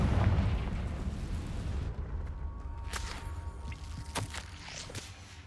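A Confringo fire spell explodes in the video game Hogwarts Legacy, a heavy booming burst that rumbles and decays over several seconds, followed by a few fainter crackling pops and debris sounds.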